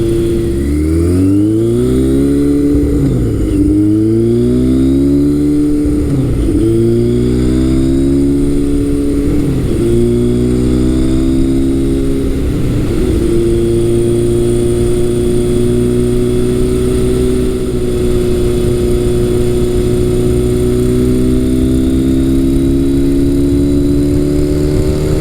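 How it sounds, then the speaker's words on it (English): A 1970s-80s Kawasaki KZ1000 motorcycle fitted with a Kirker exhaust revs and pulls away loudly, its exhaust note rising in repeated surges with brief shift breaks before settling into a steady, throaty cruise. "It sounds really good too with the Kirker exhaust."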